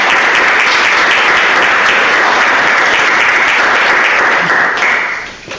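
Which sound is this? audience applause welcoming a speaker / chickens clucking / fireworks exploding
audience applause welcoming a speaker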